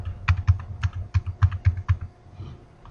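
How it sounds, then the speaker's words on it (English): Fingers type on a computer keyboard, a quick run of about a dozen crisp clicking keystrokes that trail off toward the end, close and clear with no one speaking. "We're going to type in what we would like to find and what we would like to replace it with."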